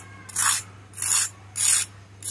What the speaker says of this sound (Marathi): आवाज दाखवते कसा क्रिस्पी झालेला आहे तो